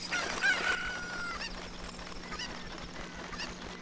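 In the Ocarina of Time Randomizer video game, a bird gives a short crowing call near the start, heard over a steady game soundscape with a low hum and no talk.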